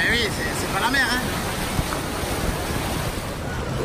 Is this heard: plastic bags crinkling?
no